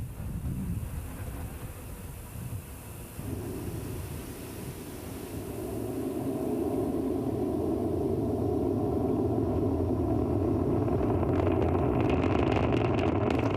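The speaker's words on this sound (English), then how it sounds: "Falcon 9 is successfully lifted off from Complex 39A at Kennedy Space Center" SpaceX Falcon 9 rocket lifting off from Complex 39A at Kennedy Space Center, a broad distant roar that swells and grows louder and harsher toward the end, crackling at the close.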